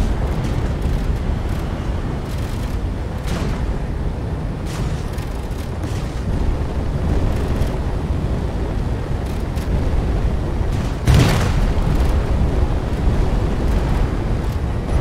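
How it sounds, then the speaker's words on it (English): A big explosion during a video game boss fight, with a rumbling low roar, scattered booms and a sharp loud blast near the end, no speech. "Ooh, that's a big explosion."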